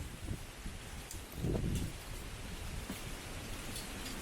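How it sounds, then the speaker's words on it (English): Light rain begins falling at Ta Prohm temple in Siem Reap, Cambodia, a soft, steady patter with scattered drops and a brief swell of rustling. "raining now. Barely, it's starting to just spit a little bit"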